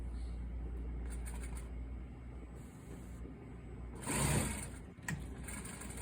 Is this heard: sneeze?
no